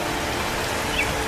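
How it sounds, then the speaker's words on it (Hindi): Steady rain pours down during a flood in a cartoon village, a dense, even hiss of drops on surfaces with no voices. "बारिश कभी रुकती है कभी बढ़ जाती है।"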